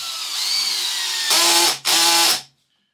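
A cordless drill runs at close range, its motor whining, then revs harder until the clutch cuts out with a brief stutter and the sound stops.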